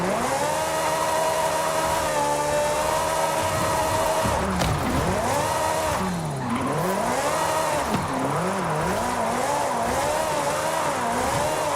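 Ferrari drifting in Forza Horizon 5, engine revving hard with long, wavering tire squeals through sliding corners, loud and continuous with rising and falling pitch.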